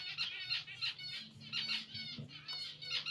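Birds squawking in Minecraft, a run of rapid, harsh, rhythmic calls repeating in bursts about every half second, faint and steady in the game audio.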